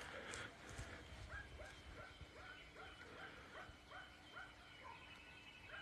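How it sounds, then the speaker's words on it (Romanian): Dogs bark outside at night under a full moon near a supposedly haunted house, a faint, distant series of repeated yaps and barks in a steady rhythm over a quiet background. "Da, câini, am auzit, agitație deja."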